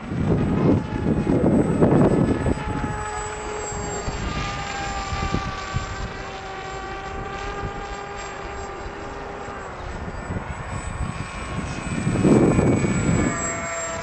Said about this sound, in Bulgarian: Дай сега срещу вятъра с ниска скорост да лети